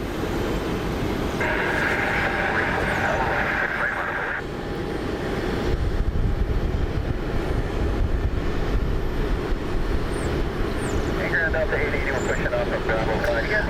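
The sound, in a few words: Delta Boeing 757 charter jet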